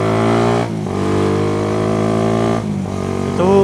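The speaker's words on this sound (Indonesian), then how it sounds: "Itu gue upshift gak pakai rev match" Motorcycle engine revving hard and steady, then dipping sharply twice as gears are upshifted without rev matching, each shift followed by the pitch climbing again, close and loud.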